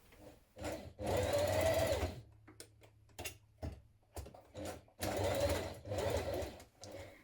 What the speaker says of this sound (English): go over it with your machine so that it's secure